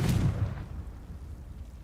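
A Confringo spell blast in Hogwarts Legacy: one loud, deep boom at the start that rumbles and fades away over the next second and a half.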